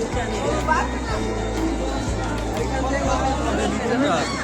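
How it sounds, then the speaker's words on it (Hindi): A dense crowd chatters in a temple courtyard on New Year, a continuous babble of many voices close by with a low rhythmic thumping underneath. "बाप रे बाप धग एकदम भीड़ करा देने छै"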